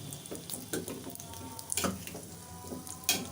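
Egg and onion toast fries in a pan on the stove, a soft steady sizzle broken by scattered pops and light clicks.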